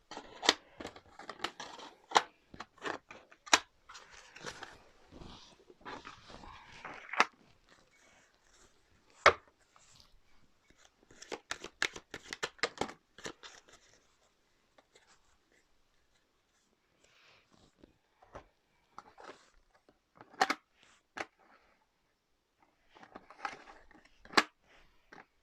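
Tarot cards are shuffled and drawn by hand, making close, dry flicks and papery snaps in irregular bursts with quiet gaps between them.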